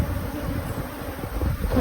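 Honey bees drone in a dense, continuous buzz during a beehive brood inspection in South Africa, close and fairly loud with no pauses or voices.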